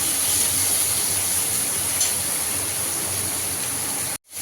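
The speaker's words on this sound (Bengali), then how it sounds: "চিংড়ি মাছটা একটু হালকা করে ভেজে নেব।" Prawns frying lightly in hot oil for a potol chingri dish, giving a steady, close, dense sizzle that runs unbroken and then cuts off abruptly just before the end.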